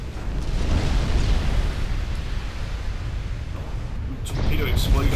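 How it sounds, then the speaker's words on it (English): Torpedo explosions in a naval video game: a sustained rumbling roar of blasts with heavy low-end boom, loud and continuous, swelling again near the end. "And more torpedo explosions."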